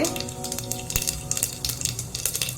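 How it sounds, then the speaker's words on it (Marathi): Mustard seeds and cumin sizzle and crackle in hot oil as a tempering for corn pulao, a steady close fry broken by sharp little pops and a clink of a utensil. "आता टाकणार आहोत मोहरी, जिरे"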